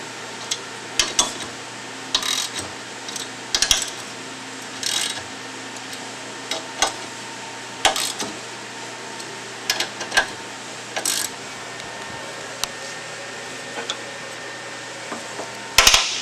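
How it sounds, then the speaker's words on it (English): Bolts on a clutch pressure plate are tightened down with a hand tool, giving sharp metallic clicks and clanks at irregular intervals over a faint steady hum, close by with no talking. "I'm going to tighten it down until the pressure plate makes contact with the housing."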